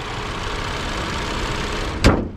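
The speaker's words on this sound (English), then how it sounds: "This is how the engine looks like when it's running." A Hyundai Kona 1.6 T-GDI turbo petrol engine idling close up with a steady broadband hum, closing with a sharp thump like a bonnet or door shutting.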